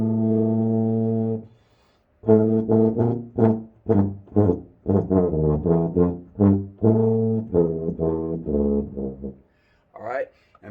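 A tuba plays a melody in a run of deep, sustained and shorter brassy notes with brief pauses, loud and close, with a short voice sound at the very end.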